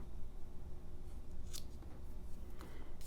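Blades of a budget 12-in-1 EDC multi-tool's scissors cutting through rope, giving a few brief close snipping crunches around the middle and near the end over a steady low background hum.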